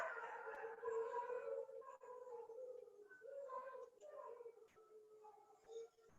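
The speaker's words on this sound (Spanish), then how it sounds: "Mis perros escucharon una alarma de carro y ya me están respondiendo al llamado" Pet dogs howl in answer to a distant car alarm, drawn-out wavering wails rising and falling at moderate distance over several seconds.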